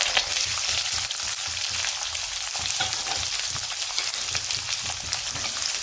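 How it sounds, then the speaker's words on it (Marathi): Sliced onion frying in hot oil in a kadhai with mustard seeds and curry leaves, a steady close sizzle running throughout with occasional stirring scrapes, no talking. "आपण आता कांदा टाकू।"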